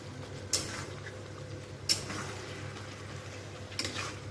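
A pot lid is set onto a cooking pot as food simmers, giving three sharp metallic clinks spaced a second or two apart over a faint, quiet kitchen background.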